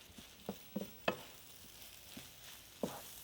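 A potato mixture stirred into nearly cooked scrambled eggs in a frying pan, several soft scraping strokes with a faint sizzle between them, close and quiet.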